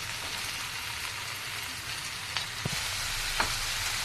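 Broccoli pieces sizzle and fry in a pan with softened onion and tomato, a steady hiss with a few light clinks and stirring taps, close and continuous, with no talking.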